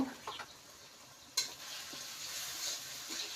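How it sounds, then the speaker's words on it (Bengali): Onions and green chilies fry in a little oil in a pan for a shrimp dish, giving a soft, steady close sizzle with a sharper burst of crackle midway and faint stirring scrapes. "সুন্দর করে একটু ভাইজা নিই। পেঁয়াজ ভাজা হয়েছে"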